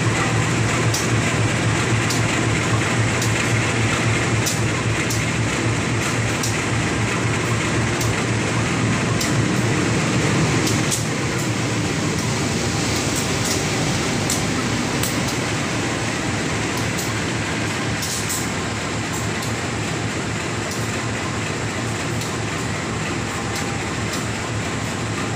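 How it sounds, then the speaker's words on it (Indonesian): The Jakatingkir train pulls into track 4 with a long, steady rumble and rail clatter, loud and close throughout, easing slightly partway through, with no one talking. "Persiapan masuk jalur 4 kereta api Jakatingkir."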